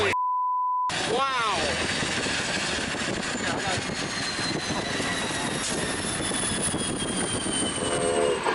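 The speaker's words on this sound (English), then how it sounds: "CCTV captured a train colliding with a car at an unauthorized crossing in North Jakarta" A train strikes a car at an unauthorized level crossing in North Jakarta: a brief electronic beep, then a loud, continuous rumble of the passing train with a blaring horn over it.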